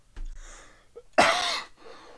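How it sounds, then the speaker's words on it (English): A single harsh cough bursts out close and loud after a brief catch of breath in a quiet room, trailing off into silence. "cough."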